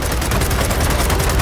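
Dense, continuous gunfire in Gears of War 4, a loud sustained burst of rapid shots with no pauses and no talking.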